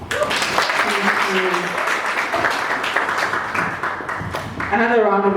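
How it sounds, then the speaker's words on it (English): An audience at a book launch claps in sustained applause. The clapping is loud and dense throughout, and a voice speaks over it near the end. "Another round of applause for our guests."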